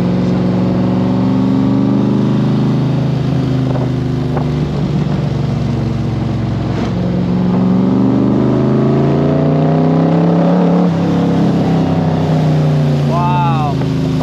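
A Cobra sports car's engine roars steadily from inside the cockpit, its pitch swelling and falling as the car accelerates and shifts, loud and continuous while people talk over it.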